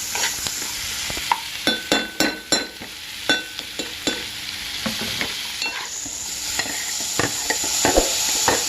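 Mushroom masala curry frying in a pan and being stirred, with a steady sizzle under repeated sharp scrapes and clinks of the spoon against the pan, close by and with no talk.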